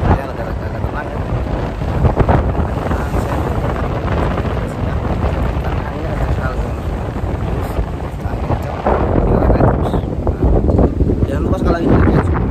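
Strong wind buffets the microphone aboard a ferry at sea out of Merak port, a loud, continuous roaring rush that swells slightly toward the end, with engine and water noise blended underneath.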